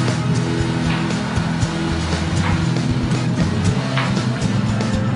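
An all-wheel-drive car spins its wheels on a steep dirt hill, giving a steady, loud roar of engine and churning tires that holds without pause throughout.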